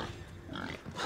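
A pig grunts in Assassin's Creed Odyssey, a short run of close, low snorting grunts that swells louder toward the end.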